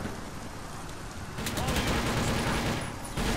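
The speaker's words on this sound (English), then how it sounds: "who's shooting me?" Gunfire in the video game TimeShift, a dense crackling fusillade that swells partway through, fairly faint and continuous.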